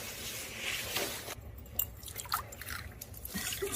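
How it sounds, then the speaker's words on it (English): Water trickles and dribbles out of a cracked-open geode, a close, soft, continuous liquid splashing with small drips and squishes. "Seen that much water come out of the geo"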